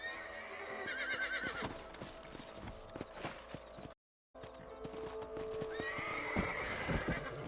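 Horses whinny while hooves clop steadily in a video game, fairly loud and continuous, broken by a brief moment of silence midway.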